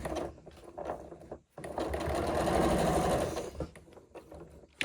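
A sewing machine stitches back along a seam in dressmaking, a close, steady mechanical whir of rapid needle strokes that stops briefly and then resumes.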